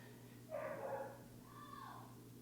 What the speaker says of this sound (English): Why is my dog barking like crazy right now?